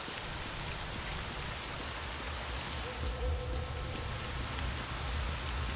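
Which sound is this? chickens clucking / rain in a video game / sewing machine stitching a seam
rain in a video game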